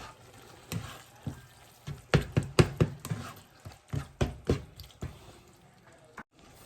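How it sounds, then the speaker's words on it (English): Ingredients for chicken and roasted tomato linguine being stirred together in a pan, a run of close, wet squishing and scraping strokes in an uneven rhythm with brief pauses, no talking. "Okay, of course we're just going to mix this up until well combined."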